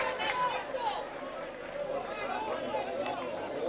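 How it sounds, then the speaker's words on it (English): Murmuring crowd at an intermediate hurling final in McDonough Park, a dense babble of many voices spread throughout, moderately loud and steady. "Quite a sizable crowd here in McDonough Park for this eagerly awaited North final."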